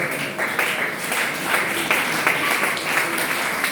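A church congregation applauding and cheering the Lord during a morning French-language sermon, a steady, dense wash of clapping and voices filling the room for several seconds without a break.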